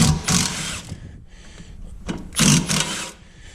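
An air impact tool blasts off 15 mm bolts on the rear axle stub of a Corrado VR6 in short, loud, close bursts separated by quiet pauses.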